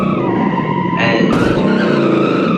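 A modified 1980s car in BeamNG.drive skids, its tires squealing in a sharp burst over a constant engine drone, loud and close, with no voices.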